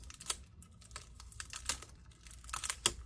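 Sticky adhesive being peeled off an HP Spectre x360 13t-ap000 convertible laptop during disassembly, heard as a quiet run of short crackling, tearing clicks in uneven bursts, close up with no talking.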